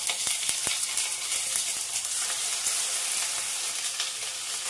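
Cabbage-spinach vadi fry in a tempering of crackling mustard seeds, cumin and curry leaves, giving a close, bright, steady sizzle with a few sharp pops and spatters early on and no speech.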